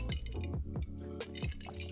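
Water drips and trickles from a jug in quick, irregular drops, close and fairly loud with no talking.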